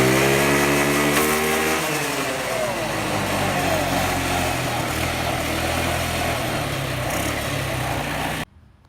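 A small scooter engine running on a nitrous oxide shot fed straight to the carburetor revs loud and close, its buzzing pitch sweeping up and holding a strained high drone before cutting off abruptly.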